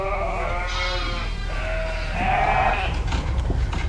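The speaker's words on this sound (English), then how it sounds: "We've got lots of lambs in the alleyway here" Lambs bleat repeatedly in the straw-bedded alleyway of a sheep shed near the end of lambing, several overlapping cries at close range over a steady background hum.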